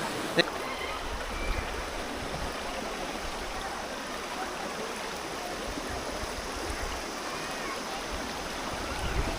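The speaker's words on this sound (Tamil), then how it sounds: "இது ஒரு சூப்பரான ஓடைங்க. கோடையில் ஒரு ஓடை." Water in a forest stream near Anaimalai, flowing forcefully, rushes steadily and close throughout, with a broad constant hiss and gurgle and one brief knock near the start.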